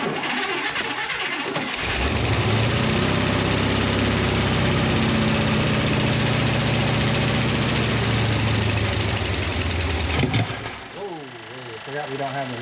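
International 1110 pickup truck engine cranking, catching and running with a loud, steady roar and rough vibration before it cuts out, while people talk nearby.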